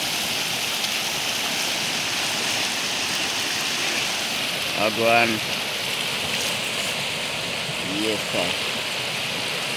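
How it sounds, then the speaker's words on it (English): Steady broadband rush of a fast-moving village river flows continuously throughout, with someone speaking briefly over it. "Of course, the river is moving faster. The water is moving faster, I mean."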